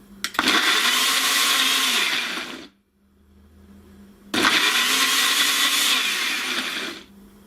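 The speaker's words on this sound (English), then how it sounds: "Just blend." A blender whirs through pineapple chunks and thickened cream in two loud, close bursts of about two seconds each. A short quiet pause separates the runs.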